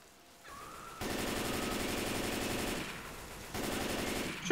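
Rapid bursts of automatic gunfire from Left 4 Dead 2, starting about a second in and firing steadily and loud, with a brief lull before resuming near the end.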